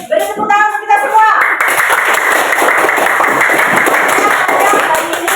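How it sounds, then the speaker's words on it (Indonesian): A classroom group claps together at the end of a school lesson, beginning with a few separate claps and building into steady, close applause, with voices over it early on. "Beri tepuk tangan untuk kita semua"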